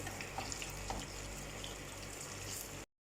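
Beef gola kababs fry on a low flame after being turned, giving a steady soft sizzle with faint crackles throughout before cutting off abruptly.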